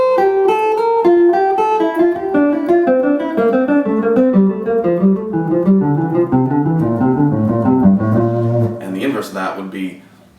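Single guitar notes run down the neck in groups of three, each little group climbing while the overall line steps lower, played evenly and close for about nine seconds before a muted scrape ends it.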